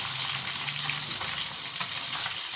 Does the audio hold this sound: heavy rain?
no